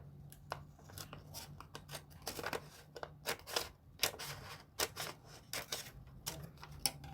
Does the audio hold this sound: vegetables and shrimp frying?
no